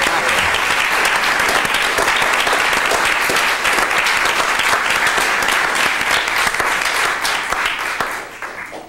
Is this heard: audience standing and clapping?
yes